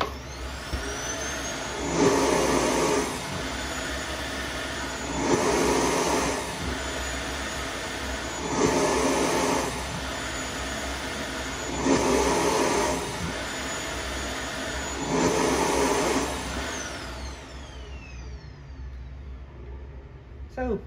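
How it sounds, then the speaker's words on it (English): A Samsung Jet 75 clean station empties its dust with a steady high-pitched suction whine, swelling into five evenly spaced louder airy surges about every three seconds before winding down near the end. "So let's show off the clean station doing its thing."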